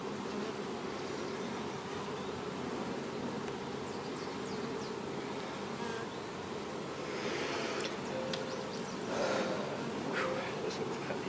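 A dense, steady buzz of many honey bees swarms around an open hive, close and continuous, with a few faint clicks and scrapes of handling near the end.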